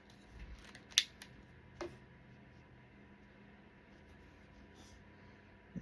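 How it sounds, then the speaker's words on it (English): Scissors snip down the middle of some material, two quick, quiet cuts close by in an otherwise hushed room. "Let's cut it down the middle."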